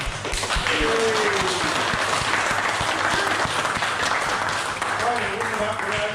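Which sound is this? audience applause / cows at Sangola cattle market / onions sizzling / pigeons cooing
audience applause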